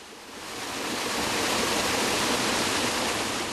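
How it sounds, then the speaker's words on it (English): Water pours and churns steadily at the wheel of a traditional water mill in an Indian village, a dense, loud rushing hiss that builds slightly and then holds constant. "He put in place a new water wheel"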